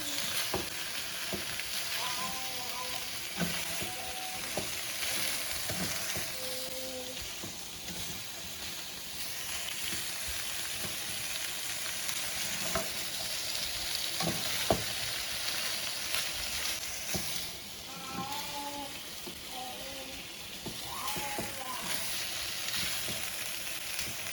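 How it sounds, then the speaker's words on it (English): Sausages for a chicken, shrimp and sausage gumbo brown in a pan with a constant low sizzle and hiss, broken by occasional scrapes and clacks of stirring, moderately quiet and steady throughout. "we're just going to cook these sausages so they're just a little brown"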